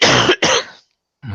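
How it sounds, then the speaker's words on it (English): A person gives two quick harsh coughs close to the microphone, followed by a short silence and then the start of another sound. "Out of game, I'm not coughing in character."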